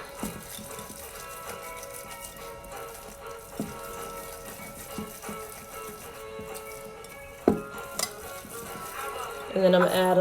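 Chocolate chips get mixed into thick cacao cookie dough in a bowl, giving soft, irregular scraping and stirring noises up close, with a few sharper knocks near the end.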